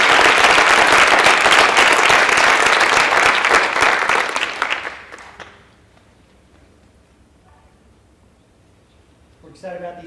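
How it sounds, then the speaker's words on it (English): A round of applause at a school board meeting honoring students: brisk crowd clapping for about five seconds, then fading away into near silence, with a faint sound near the end. "Let's give these guys a round of applause."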